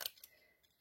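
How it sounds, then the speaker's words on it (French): Scissors cutting along a drawn line in paper for a paper balloon craft: a couple of crisp, quick snips at the start, then a lighter click of the blades, close and quiet. "Vous mettez vos ciseaux dans l'alignement du trait"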